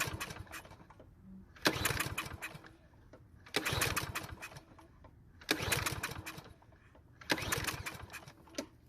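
Four repeated pull-cord starting attempts on a Craftsman walk-behind trimmer engine, each a loud rattling burst of about a second separated by quiet pauses, with the engine failing to catch.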